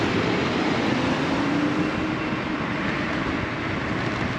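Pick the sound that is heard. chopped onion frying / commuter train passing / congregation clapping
commuter train passing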